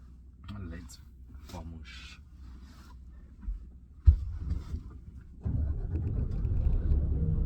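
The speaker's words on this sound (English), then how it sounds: "we need to start the truck" Dropside superlink truck with a 500 hp engine cranking and starting on a Zimbabwe route, a sudden thump followed by a steady loud low rumble of idling after some quiet cab noises and brief talk.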